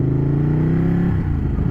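A motorcycle engine revs up and then dips as the bike shifts gears, close and loud, with a rising drone that breaks into a choppy note near the end.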